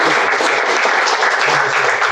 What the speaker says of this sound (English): For another round of applause.